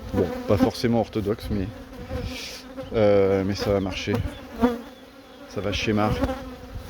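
Honey bees swarm densely around hive frames, a continuous close buzzing under someone speaking French, with brief rising whines as single bees pass near.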